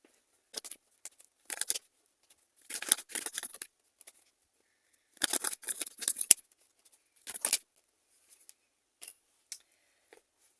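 Tarot cards being drawn and shuffled, making crisp, papery rustles and flicks in irregular clusters with silent gaps between them, close and fairly faint, with no voices.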